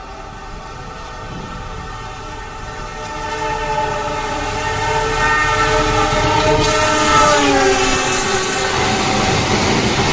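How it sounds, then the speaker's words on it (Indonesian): The Argo Wilis passenger train, hauling a panoramic carriage, passes a rail-side spot in Sidoarjo, Indonesia, sounding a long, loud horn over its close, rising rumble and wheel noise. "sebentar lagi kereta api Argo Wilis akan melintas"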